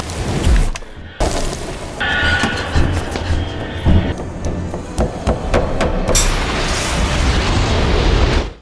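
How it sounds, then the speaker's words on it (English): A kitchen stove suddenly exploding in a horror film scene, heavy booming blasts and sharp impacts followed by clattering debris and a loud rushing roar, dense and close throughout. "The stove in the kitchen suddenly explodes"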